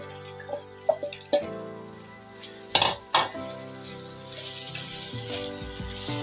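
Grated potato tossed into a hot pan for aloo paratha filling, with a few clinks of a utensil against the pan, a louder scrape, then a steady soft sizzle.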